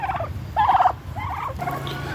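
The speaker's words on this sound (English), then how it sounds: "You put up this roosting bar for the turkeys, which you can hear them, they're right next to me." Farmyard turkeys on a roosting bar gobbling close by: three or four loud rattling gobbles in quick succession over a faint outdoor background, no talking.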